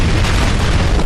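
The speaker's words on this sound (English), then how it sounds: "Its explosion resulted in a very strong flash and a deafening crash, forming a ball of fire of 30 meters in diameter." Atomic bomb explosion sound effect, a loud, dense, sustained roaring boom that fills the whole short stretch without letup.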